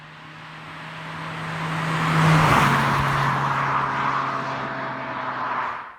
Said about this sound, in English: so you get the effect of the car moving from one side to the other